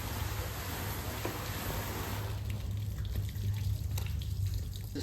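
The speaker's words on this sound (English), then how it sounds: "it's good just to rinse it out, just with fresh water" Fresh water runs and splashes into the tank of a Karcher B150R floor scrubber as it is rinsed out, a steady close hiss over a low mechanical hum.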